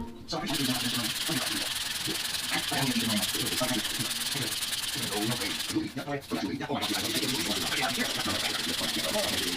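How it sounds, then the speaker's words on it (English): Steady rhythmic sanding of paint off the bumper of a 1971 Pontiac GTO under restoration, a rasping scrub of abrasive over a hard surface, continuous and close, with a brief pause midway. "I'll keep sanding some more"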